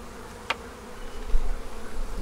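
Honey bees buzzing around an open hive, a steady close insect hum with one bee zipping past the ear, quiet outdoor background and no talking.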